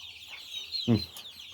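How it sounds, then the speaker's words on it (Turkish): A single short cluck from a chicken rises briefly near the end, close by, over faint background noise. "köy tavuklarımız var. Onları da büyütüyoruz şimdi."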